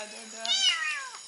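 A cat gives a single drawn-out meow, rising then falling, close and fairly clear in a quiet room, with no talk over it.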